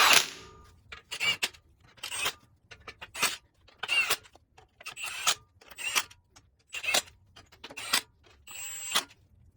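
Bolts on the rear axle of a 1956 International S-160 4x4 truck are snugged up with a ratchet, giving about nine short, evenly spaced bursts of rapid clicking close by with quiet gaps between them.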